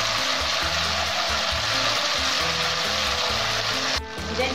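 Chili paste for sambal udang sizzling and frying in hot oil in a pan, a continuous bright crackle with rhythmic scraping as it is stirred, briefly dipping near the end.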